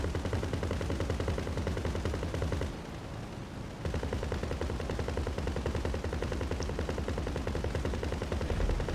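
Rapid automatic gunfire from the GTA Online video game rattles loudly and continuously in a dense stream of shots, broken by a brief pause of about a second before resuming just as intensely.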